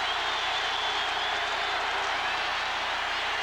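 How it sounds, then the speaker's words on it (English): A packed football stadium crowd at the 1984 Michigan at Ohio State game roars to urge on the Ohio State Buckeye defense. The noise is a loud, continuous wall that holds steady throughout, with no clear single voices. "The crowd urging on that Buckeye defense."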